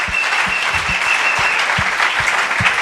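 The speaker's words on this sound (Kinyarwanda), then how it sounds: "Acclamons Jésus." A church congregation claps together in a steady, rhythmic beat, a dense and loud sound that carries on evenly throughout.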